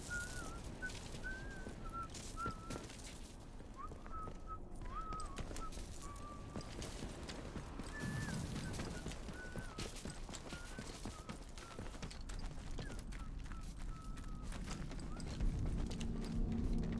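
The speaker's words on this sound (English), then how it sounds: "You guys hear the whistling?" Whistling in the video game Atomfall, a thin wavering melodic tune drifting over a busy, noisy game ambience for the full length, fairly faint and without speech.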